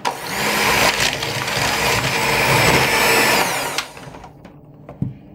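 An electric mixer whisks cake batter with eggs for a cherry-coconut loaf cake, a steady loud whirring that runs for several seconds before cutting off, leaving a few faint clinks.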